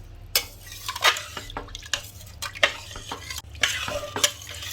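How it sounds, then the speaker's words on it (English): Coconut milk rice is stirred in a pot with repeated wet scraping and clinking strokes of a spoon against the metal, close and busy, over a faint simmer. "Now give a good mix and check for salt and spice."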